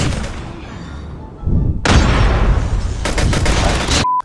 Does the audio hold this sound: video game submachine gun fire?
yes